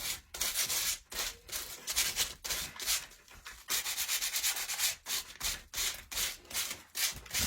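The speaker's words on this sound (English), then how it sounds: "so I sanded around." Steady back-and-forth sanding strokes rasp over a piece of a Dollar Tree chandelier for a DIY porch light, close and fairly loud, in quick rhythmic bursts with short pauses between passes.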